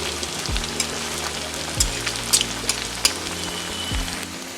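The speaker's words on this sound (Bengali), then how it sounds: "এবারে ডুবো তেলে একটা একটা করে আমি ভেজে নেব।" Potato fries deep-frying in hot oil over a low flame, a steady close sizzle with crackling pops and bubbling, sounding alone without voices.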